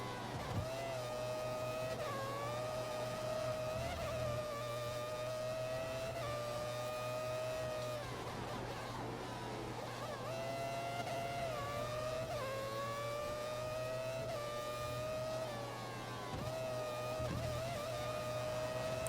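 F1 race cars in the F1 2014 video game scream through a race, a steady high engine whine that climbs and dips with gear changes and throttle, continuous and fairly quiet, with no speech.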